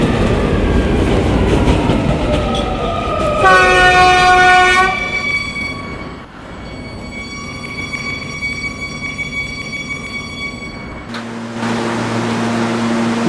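An R220 subway train on the 11 local line rides along the track, a loud steady rumble with a sustained tonal whine and a horn-like tone, then shifting to a lower hum near the end.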